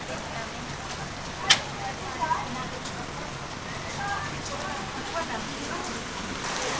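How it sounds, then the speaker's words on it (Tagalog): Steady rain hisses continuously, with a few sharper drips or taps scattered through it. "Ang lakas ng ulan."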